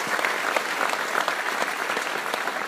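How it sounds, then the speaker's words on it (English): Audience applause at a motivational speaking event in London, a steady dense wash of many hands clapping that holds at an even level throughout, close and sustained. "Give her a round of applause."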